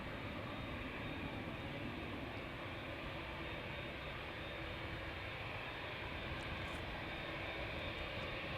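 Two Boeing 787-10 airliners depart Amsterdam Schiphol, one after the other, bound for San Francisco and Los Angeles, their engines a steady, broad roar with no voices.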